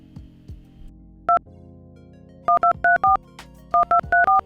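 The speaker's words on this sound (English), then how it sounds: "we'll dial +61" Keypad tones from an NEC ST500 phone dialer: a single beep, then a quick run of four tones, a pause and four more, each short and crisp over a faint steady hum.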